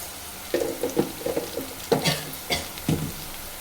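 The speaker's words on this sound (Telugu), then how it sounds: "ఆనియన్స్ పచ్చిమిర్చి అయితే వేగిపోయాయి కదా కొంచెం పసుపు అయితే వేసుకుంటున్నాను" Onions and green chillies with turmeric being stirred in a frying pan for a tomato curry, with a series of close scraping stirs over a soft sizzle, no talking.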